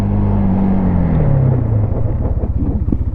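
A 2001 Yamaha Bear Tracker 250 ATV engine runs close by with a loud, steady low rumble, its pitch falling slightly and then settling into an even, smooth chug.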